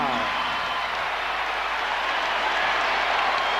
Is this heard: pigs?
no